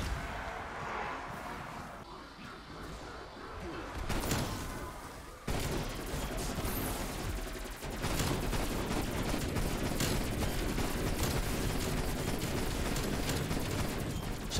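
Shotgun blasts and heavy gunfire in Call of Duty Cold War Zombies play as a dense, loud, continuous barrage of shots and booms, broken by a sharp cut about midway.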